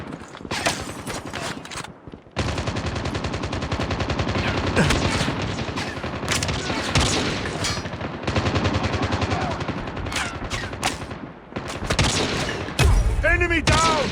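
Rapid automatic gunfire bursts from the mobile first-person shooter Call of Duty Mobile, loud and sustained with brief pauses and game sound effects, played on a Xiaomi Redmi Note 8 Pro.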